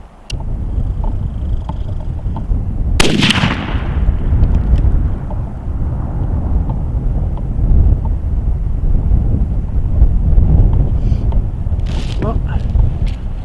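Savage Axis XP .308 rifle firing while being sighted in outdoors, one sharp loud shot early and a fainter crack near the end, with wind noise and muffled voices in between.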